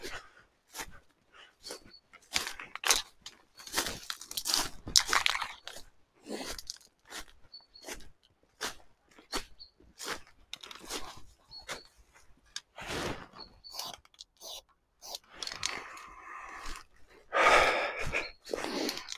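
A dog pants and gasps in quick, loud bursts close by, with chewing and crunching sounds and rustling as it moves around outdoors on a farm, bursts spread unevenly with short quiet gaps.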